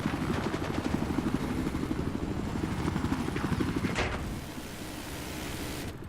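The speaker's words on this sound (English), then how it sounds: "Oh, it's a helicopter! He's got the helicopter!" A Battlefield 4 helicopter's rotor thumps in a steady, rapid chop under dense engine roar, loud and close, then eases slightly toward the end.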